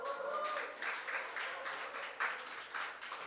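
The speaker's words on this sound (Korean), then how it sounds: "박수 한번 쳐주시죠" A church congregation claps during a Sunday worship service, a brief, faint patter of hands from across the room that settles into a loose rhythm.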